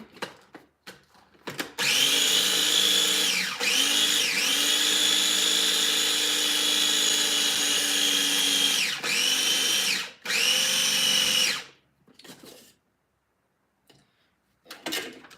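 Small electric grinder whirring through dried candy cap mushrooms, a loud, steady high-pitched motor drone of several seconds with brief dips and restarts, then a few short pulses near the end; no one speaks.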